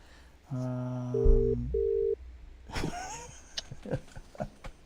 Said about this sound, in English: we'll find Leigh's phone number and get him on